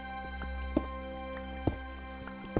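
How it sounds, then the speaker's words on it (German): Water dripping in a Minecraft cave, a few sparse single drips spaced about a second apart over a steady low ambient game hum. "Ich höre die ganze Zeit Wasser und Zombies."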